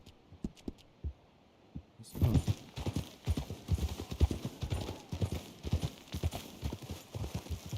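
Horse hooves clip-clopping in the western game Red Dead Redemption, a few sparse steps at first and then a busy, close rhythm of several horses trotting together.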